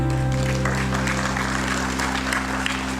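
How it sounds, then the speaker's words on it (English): Audience clapping at a national pharmacology conference in Rohtak, a moderate even patter of hands heard over a steady low hum from the hall's sound system. "Can we have a warm round of applause, please?"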